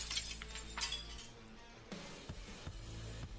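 Glass shatters and tinkles during a tabletop role-playing game session, a crashing break followed by scattered clinking shards, with a low steady hum underneath.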